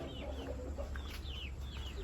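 An Aseel tiger-breed hen makes soft, faint, intermittent clucks and chirps over a constant low background hum.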